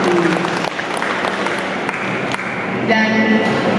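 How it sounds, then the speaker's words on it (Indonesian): Sustained applause fills a hall at a women's festival in Indonesia as the audience claps for Indonesian women present, with steady dense clapping and faint background tones throughout. "Boleh kita tepuk tangan untuk para wanita Indonesia yang ada di dalam ruangan ini."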